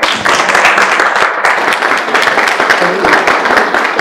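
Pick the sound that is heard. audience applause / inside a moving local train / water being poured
audience applause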